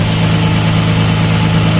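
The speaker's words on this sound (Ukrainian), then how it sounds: "Дивіться, як, як працює двигун" An Audi A6 with a 2.4 V6 runs steadily just after its first start in a garage, giving a loud, even idle drone with a continuous low hum.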